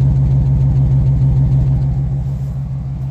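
A Ford Triton V10 gas engine in a 2000 Gulf Stream Class A motorhome idles at the exhaust, a loud, close, steady low rumble with even pulsing and no talk.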